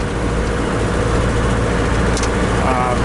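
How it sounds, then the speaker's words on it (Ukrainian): A GAZelle IVECO van drives on the road with a loud, steady drone of engine and road rumble filling the cab. Someone talks over it. "Як бачите чи чуєте, їду на газелі."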